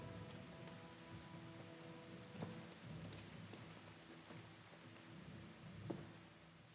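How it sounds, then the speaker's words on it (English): Steady rain falls in a thunderstorm in Kingdom Come: Deliverance, a low rumbling wash under faint scattered drops, with a couple of brief sharper cracks and no voices. "Thunder!"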